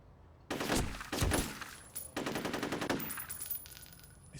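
Automatic gunfire from a weapon in the video game F.E.A.R. comes in several sharp, rapid bursts separated by short pauses, loud against a quiet background.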